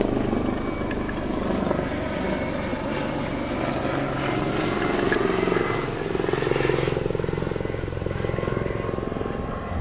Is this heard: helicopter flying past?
yes